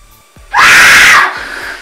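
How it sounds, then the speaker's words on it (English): A woman actor lets out a loud, sustained shriek for a horror short about a monster under the bed, high and piercing for under a second before cutting off, close and alone. "I need you to shriek."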